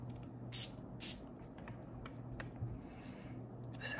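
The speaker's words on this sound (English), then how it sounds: "let's just spray this." Fragrance bottle atomizer spraying, several short hissing spritzes at about half-second intervals near the start and another at the end, close and quiet over low room hum.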